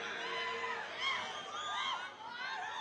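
A distant crowd cheers and shouts at an election campaign rally in Sangola, Solapur, a continuous faint roar with rising whoops.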